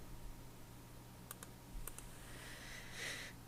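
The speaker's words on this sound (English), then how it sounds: "clicking on them individually while I'm holding down my shift key" Computer keyboard keys and a mouse clicking while crafting designs on a computer, a few quick paired clicks in a quiet room, fairly faint, with a low steady hum beneath.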